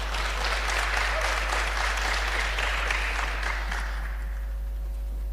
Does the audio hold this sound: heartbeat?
no